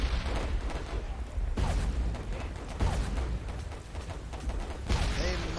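Mortar fire in the World War I game Warfare 1917 rumbles as a dense, continuous barrage of booms, with sharper blasts near the start, middle and end under steady battlefield noise.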